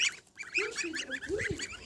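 Young goslings give soft, rising peeps and chirping calls close by, a rapid scatter of short notes with a few lower honks mixed in.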